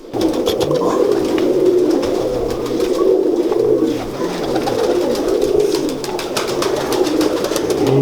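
Several pigeons coo continuously nearby, low rolling calls overlapping in a steady chorus with faint background rustling.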